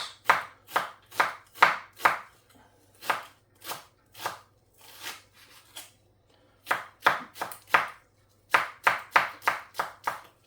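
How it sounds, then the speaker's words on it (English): A knife chops onions finely on a board in steady quick bursts of sharp, close taps, pausing between runs, with no talk over it. "So chop these quite fine. 1 to 2 onions."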